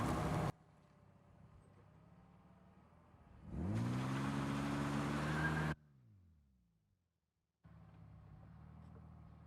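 A BMW E46 automatic car engine idles, then revs hard and loud for a couple of seconds during a burnout attempt, drops back, cuts out briefly and settles into a steady idle again.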